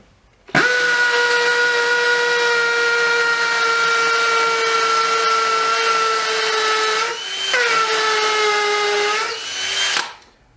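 A cordless Dewalt DCD795 drill bores an 8mm hole into wet brick, a steady loud whine lasting several seconds with a brief dip in speed near the end before stopping.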